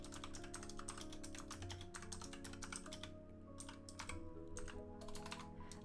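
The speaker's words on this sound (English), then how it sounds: "I'm typing in all caps because I forgot that I have all caps on." Rapid, steady clatter of a computer keyboard being typed on for several seconds, keys tapping close to the microphone over a constant low background hum, with no voices.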